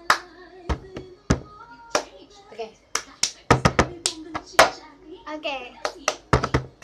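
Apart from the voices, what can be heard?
hands clapping a rhythm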